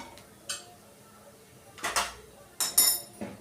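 Fried okra being tipped into a cooking pan brings a few sharp metallic clinks and clatters, scattered over a few seconds against a quiet background.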